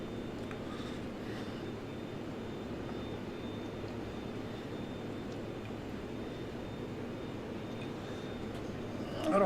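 A steady, fairly quiet propeller aircraft engine drone in flight from a flight video game, even and continuous with no talking.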